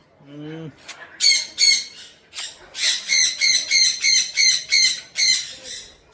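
A pet bird squawks repeatedly in harsh, rhythmic bursts, close by, with a few short calls leading into a steady run of squawks.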